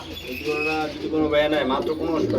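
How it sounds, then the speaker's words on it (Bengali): Giribaz pigeons at a pigeon farm give soft, throaty coos in quick repeated phrases close by, with faint voices or other background sound underneath. "খুবই চমৎকারের মধ্যে একজন গ্রিবাস কবুতর আছে এই জোড়াটা রানিং"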